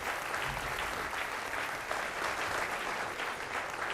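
A studio audience on a Hindi talk show about time management bursts into steady, sustained applause, a dense wash of clapping that fills the room at an even level throughout, with no talk over it.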